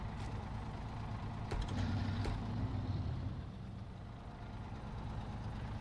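A heavy truck's diesel engine idles in the Snow Runner video game, a steady low rumble that runs throughout with a few faint clicks and knocks on top, fairly quiet and with no talking.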